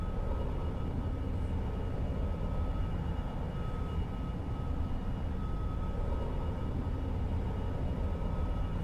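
An F-22 Raptor jet in the X-Plane 11 flight simulator climbs out after takeoff at about half throttle, a steady, dense engine roar with a faint high whine, constant and unbroken, no talking.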